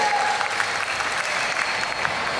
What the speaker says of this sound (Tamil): கைத்தட்டல் கொடுத்துருவாப்பா